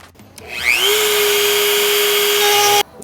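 A power drill spins up fast and holds a loud, steady high whine for about two seconds, ovaling a screw hole on an FL5 Honda Civic Type R for an APR aero kit, then stops abruptly.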